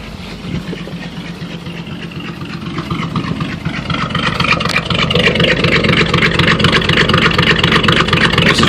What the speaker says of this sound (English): This is what it sounds like with a full exhaust system with no muffler, just straight pipe all the way back.